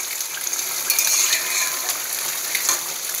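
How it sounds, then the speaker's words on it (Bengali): Fish frying in a pan of hot oil in a home kitchen, a steady bright sizzle with occasional louder pops and crackles, moderately loud and close. "আর মাছ ভাজা হচ্ছে।"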